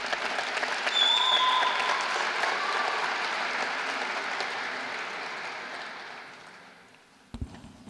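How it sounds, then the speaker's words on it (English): Audience applause fills a college commencement ceremony, a broad sustained wash of clapping from a large crowd that gradually fades toward the end, followed by a brief thump. "Yes, please, another round of applause."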